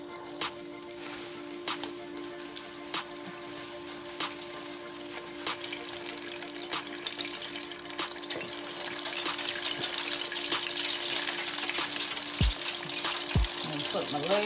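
Chicken pieces sizzle and crackle as they fry in hot oil in a pan, a steady close frying hiss with a faint hum beneath that swells louder toward the end as more pieces go in.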